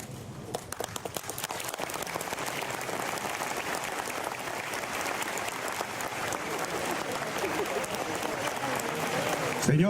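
A crowd claps at a flag unveiling ceremony for the 116th anniversary of Villa Ángela, dense and sustained applause swelling gradually louder over ten seconds, with a few scattered sharp claps and a faint voice near the end.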